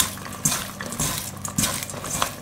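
Cabbage in olive oil is stirred inside a 3-quart Instant Pot Ultra Mini, with a few distinct utensil clinks and scrapes against the pot over a soft hiss, close and moderately loud, no talking.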